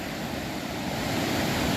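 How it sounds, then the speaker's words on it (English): Waterfall in Ricketts Glen State Park, a steady, dense rush of falling water that holds an even, loud roar throughout, with no talk. "Wow, look at this big waterfall here."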